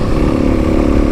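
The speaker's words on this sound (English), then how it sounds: "going over some of those whoops here with the KLX" A Kawasaki KLX300 dirt bike rides over desert whoops, its single-cylinder engine droning loud and close with a steady throaty rumble and slight rise and fall across a short burst, no voices.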